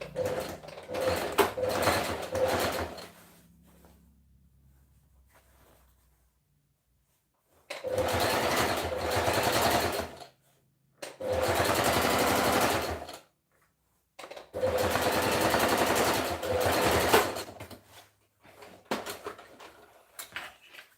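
Sewing machine stitching a dress in several runs of loud, close mechanical whirring, each lasting a few seconds and separated by short pauses, with faint rattling in between.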